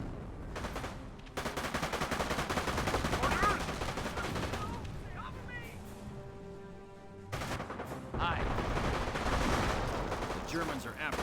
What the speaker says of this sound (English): so all the Thompsons are firing